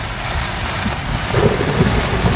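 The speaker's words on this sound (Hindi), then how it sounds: "इतना तेज बारिश और हवा" Heavy rain and gusting wind lash a bus stand shelter during a cyclone-strength thunderstorm at a campsite near Bengaluru, producing a dense, loud, continuous roar with low rumbling bursts toward the end.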